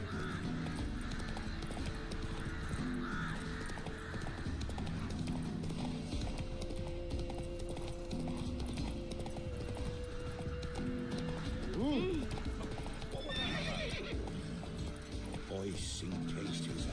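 Horse hooves clip-clopping at a steady pace with a brief neigh partway through, heard faintly under a continuous hum and background noise.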